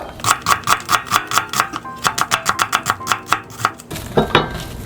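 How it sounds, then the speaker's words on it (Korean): A knife slicing half an onion into thin strips on a cutting board: a quick, even run of about twenty crisp chops that speeds up, then stops, close and alone. "양파 반 개도 채를 썰어 주세요"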